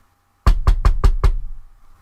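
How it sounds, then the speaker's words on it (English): Five sharp knocks on a wooden door in a quick, even sequence after a moment of silence, each strike close and loud with a short ring-out. "knocked on the door"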